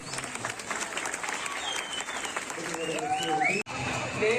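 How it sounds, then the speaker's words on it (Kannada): An audience at a village fair stage drama breaks into sustained applause for the performing artists, steady dense clapping throughout, with a speaker's voice and some crowd noise mixed in. "ಇಲ್ಲಿವರೆಗೆ ಆಡಿದ ನಾಟಕ ನಿಮ್ಮ ಮನಸ್ಸಿಗೆ ಬಂದಿದ್ರೆ ಒಮ್ಮೆ ಚಪ್ಪಾಳೆಯಿಂದ ಕಲಾವಿದರಿಗೆ"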